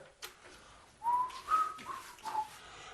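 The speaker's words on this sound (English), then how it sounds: "you know it's compulsory when you're decorating to whistle. So you whistle while you work" Person whistling while decorating, a few short faint melodic whistled notes, close by, with quiet room noise between them.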